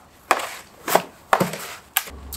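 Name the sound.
mixing seed starting mix with perlite by hand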